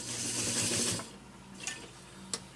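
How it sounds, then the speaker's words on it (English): A White model 162 sewing machine stitches through a thick stack of material, its motor whirring briefly and fairly loud before dropping to a low hum with a couple of small clicks. "we got a lot of material there, and it's just cranking through"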